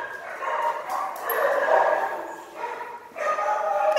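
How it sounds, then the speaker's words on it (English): A female puppy yips and whimpers at home in a run of high, strained cries close to the microphone, with a short pause before another burst. "It's a puppy."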